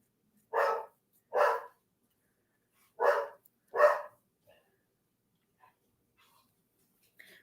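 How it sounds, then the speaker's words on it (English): Leo the dog barks four times close by, in two evenly spaced pairs, each bark sharp and loud, then falls quiet apart from faint snuffs and breaths. "He's looking right at me and barking at me."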